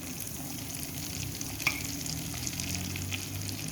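Whole spices fry in hot oil for a homemade village-style pickle, a steady close sizzle and crackle with a sharp pop partway through and no talking.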